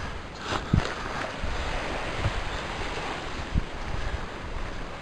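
Waves washing against a seashore at the edge of a wood in Tasmania, a steady broadband rush with wind buffeting the microphone and a few soft thumps, heard without any talk.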